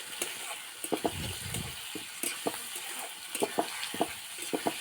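Meat fries in a pan with a constant sizzling hiss, punctuated by repeated sharp scrapes and taps of stirring at an uneven rhythm, close by and with no voices.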